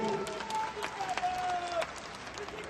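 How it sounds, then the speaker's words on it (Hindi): Crowd applause at a Bihar political rally, moderately faint, with voices calling out over the clapping and a long tonal sound running through the middle. "आप इनके लिए एक बार जोर से ताली बजाइए।"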